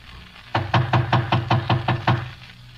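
Eight even knocks strike a door in an old radio detective drama, close and loud, with a steady rhythm and a hollow wooden thump, then stop.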